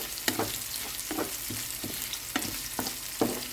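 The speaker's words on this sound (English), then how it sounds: "Now add the onion and continue on stirring until the onion will caramelize." Onion sautés in a hot pan for a stir-fried bitter melon and shrimp dish, a steady sizzle broken by repeated scraping stirs in an uneven rhythm, close and alone.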